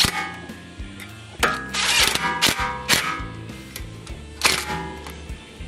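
A ratchet tightens the front brake caliper bolts on an Acura, with quick mechanical clicking bursts and sharp repeated ratcheting strokes close to the microphone.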